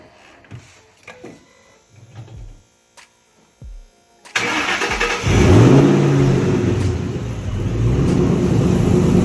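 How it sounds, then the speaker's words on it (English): A supercharged Ford Mustang 427R with a new intake fires on a cold start: a few quiet clicks and knocks, then the engine catches abruptly and settles into a loud, steady, close-up idle with a rising tone. "Cold start with the new intake on it."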